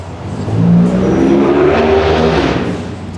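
A truck passes by a loading dock, its engine swelling loud and close with a rising, revving tone before fading away.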